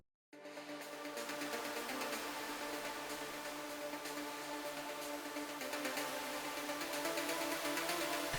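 A big synth pad washed in bright, shimmering Valhalla Shimmer reverb, entering after a brief silence and sustaining as a dense, even wall of sound with no talking.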